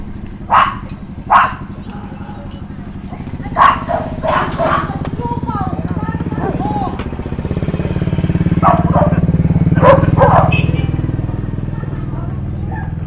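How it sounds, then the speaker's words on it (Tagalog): Several sharp dog barks come in scattered bursts, some near and some farther off, over a steady engine rumble. "Daming aso."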